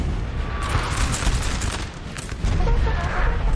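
Russian artillery pieces firing on the front line in Napoleon: Total War, a rolling mass of booms and crackling volleys blended into dense, distant battle noise without a pause.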